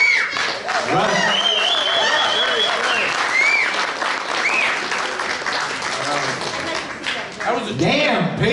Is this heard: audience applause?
yes